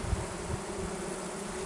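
Honeybees inside a Spanish-style Layens hive built from natural materials, giving a dense, steady buzzing hum close by, with a few soft knocks underneath and no voices.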